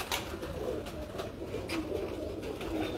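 Pigeons coo on a rooftop in Sharjah, soft repeated throaty calls recurring through the clip over steady outdoor background noise, with no talk.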